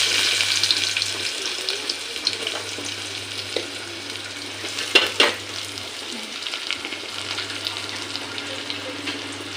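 Garlic cloves and onion sautéing in a pan for a village-style sundaikai kulambu, giving a steady broadband sizzle with occasional stirring scrapes and a brief louder clatter midway; a low hum runs underneath.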